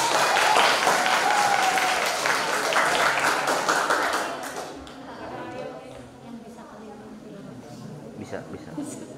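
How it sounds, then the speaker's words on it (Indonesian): Students at a school Ramadan religious program applaud in a loud, dense burst of clapping for about four seconds, which then fades into scattered claps and murmuring voices as people talk. "Tepuk tangan dong."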